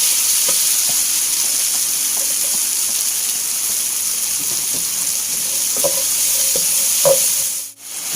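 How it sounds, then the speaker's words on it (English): Chopped onion added to a hot pan for Malaysian curry puff filling, frying with a steady soft sizzle and occasional scraping stirs, close and continuous throughout with no talking. "Now we can add in the onion."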